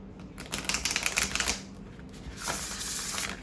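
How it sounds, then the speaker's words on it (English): An oracle card deck riffle shuffled up close, a quick burst of crisp fluttering clicks, then a second softer riffle as the cards bridge back together. "But it riffle shuffles really nicely."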